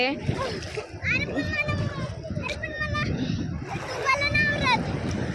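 A child splashes while swimming in sea water at a beach, with irregular splashes and surf over a constant wash as children's voices and an adult talk throughout.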